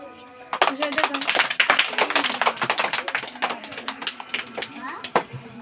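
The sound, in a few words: applause, audience clapping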